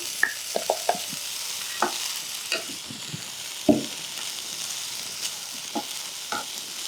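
A spoon stirs beans with horse gram powder in a pan for beans usili, making a series of scraping, clacking strokes over a soft, continuous sizzle, close and alone.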